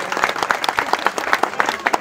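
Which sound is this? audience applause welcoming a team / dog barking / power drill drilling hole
audience applause welcoming a team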